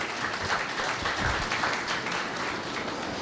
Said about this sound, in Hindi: एक बार जोरदार तालियां हमारे देश के लिए।